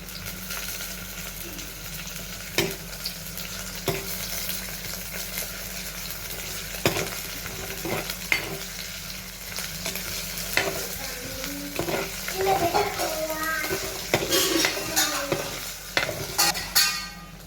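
Onions, ginger, garlic and green chillies fry in a pan, a continuous crackling sizzle with scraping stirs and occasional clinks, the spatter growing livelier toward the end.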